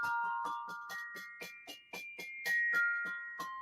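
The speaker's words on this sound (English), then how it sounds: "It's like a 1950s doorbell." A ringing bell sounds like an old 1950s doorbell, giving a rapid series of about fourteen clear metallic dings with chiming tones that shift pitch partway through, close and distinct against near silence.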